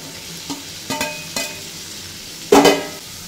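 Papaya pieces added to potatoes and spices in a pan, several distinct scraping stirs followed by a louder burst of sizzling as the papaya hits the hot oil.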